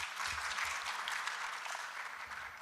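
An audience applauds for a team member at a medical summit on urogynecology, steady hall-wide clapping at a low, somewhat distant level, continuous for the whole stretch without talk.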